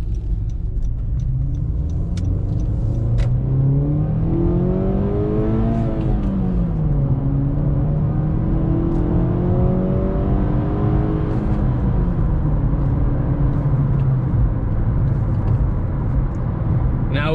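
A ninth-generation Honda Accord with a manual transmission revs up and down through several rising and falling engine sweeps, a loud, close, continuous drone over a steady road rumble.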